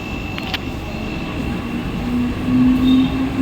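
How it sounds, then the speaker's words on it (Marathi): Mumbai local train bound for Thane pulling into platform 2 at night, a steady rumbling rail roar with a rising wheel squeal toward the end, close and continuous. "प्लॅटफॉर्म क्रमांक 2 पर आई हुई लोकल 7:34 की ठाणे जाने वाली ही लोकल है"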